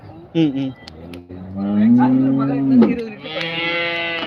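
Cattle at a busy cattle market in Karungalpalayam, Erode, give a loud, drawn-out moo close by, with shorter lowing calls around it and people talking in the background.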